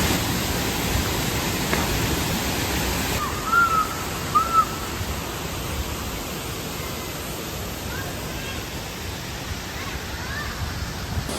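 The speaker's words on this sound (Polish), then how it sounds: "Za mną widzicie kolejny wodospad" Waterfall in the jungle near Banlung, Ratanakiri, Cambodia, a steady broadband rush of falling water, loud and close, with faint bird calls briefly rising above it.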